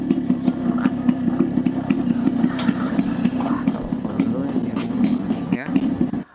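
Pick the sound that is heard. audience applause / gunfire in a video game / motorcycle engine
motorcycle engine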